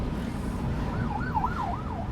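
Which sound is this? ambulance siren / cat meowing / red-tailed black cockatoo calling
ambulance siren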